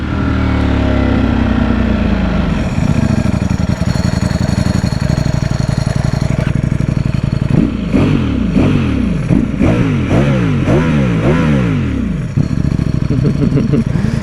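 Stock Ducati Streetfighter V4 Lamborghini motorcycle engine revving close up, a steady idle followed by a run of sharp repeated throttle blips that rise and fall in quick succession, loud and alone.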